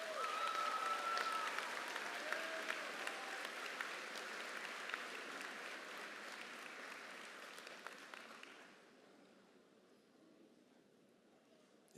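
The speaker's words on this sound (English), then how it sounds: "Let's give them one more big round of applause." Sustained applause from a large audience for graduates at a high school graduation ceremony, steady and broad for about eight seconds before fading off, leaving a quieter room.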